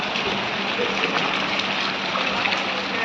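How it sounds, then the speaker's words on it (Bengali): Floodwater in a rain-flooded street area of Seujgari, Bogura, rushing past as a loud, steady, unbroken broadband roar for a few seconds. "পানির স্রোত"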